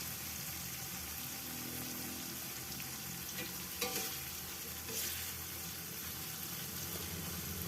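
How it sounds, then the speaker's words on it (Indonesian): Chilies and other ingredients for sambal pete fry in a pan with a steady close sizzle, while a utensil stirs through them with occasional scraping clinks. "Aduk-aduk sampai matang karena ini tidak akan saya goreng lagi."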